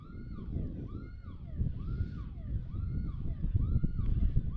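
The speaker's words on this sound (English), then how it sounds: "Still trying to sort out the alarm situation" Outdoors at an amateur soccer championship match, an alarm wails in a repeating rising-and-falling siren pattern at moderate distance. Heavy wind noise buffets the microphone beneath it.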